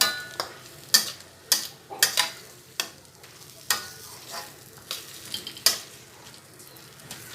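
Egg kothu parotta pieces are mixed with masala on a hot pan. A metal spatula strikes and scrapes in irregular, sharp clanks over a faint sizzle, close up and without talk.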